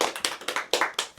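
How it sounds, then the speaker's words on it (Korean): A small group at a Tuesday Bible study claps hands together in a quick, even rhythm, about five sharp, close claps in just over a second, with no talk over them. "박수 치고 시작하겠습니다"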